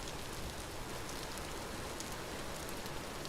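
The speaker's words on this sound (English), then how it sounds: "the rain, unfortunately, might end up drowning out any bee sounds" Rain falls steadily in the Vintage Story survival game, a dense, even hiss of drops with faint scattered patters on top. It stays soft and unbroken throughout, with no voices.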